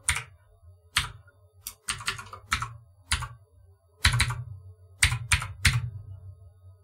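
Keys on a computer keyboard are pressed in short uneven bursts to enter a passcode, crisp nearby clicks separated by brief pauses.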